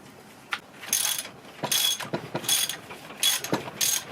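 A ratchet wrench undoes a fastener on a Toyota Yaris, clicking in short repeated bursts of ratcheting close up, with brief pauses between strokes and no talking.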